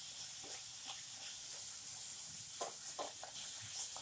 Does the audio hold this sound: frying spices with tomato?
yes